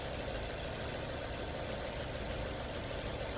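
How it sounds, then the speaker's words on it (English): A Toyota Urban Cruiser with about 50,000 km on it idles, its engine giving a steady, even hum with a faint knocking vibration and no change in pace. "check the noise, engine noise first"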